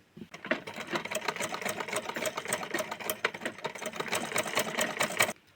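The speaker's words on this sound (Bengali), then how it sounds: "এভাবে করে প্রত্যেকটা ধাপে ধাপে সেলাই করে যাব, কুচি দিয়ে যাব।" Sewing machine stitching pleats into dress fabric, its needle running in a steady fast chatter for several seconds with brief slowdowns, close and clear with no talk.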